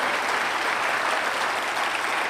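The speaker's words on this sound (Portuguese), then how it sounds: "Se você crê nisso, pode aplaudir o Senhor." A church congregation applauds during a service, a dense, steady wash of clapping from many hands that fills the whole moment without pause.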